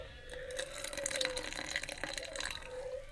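Tamarind water is poured into green chutney, a soft, faint trickle and splash of liquid running for a few seconds.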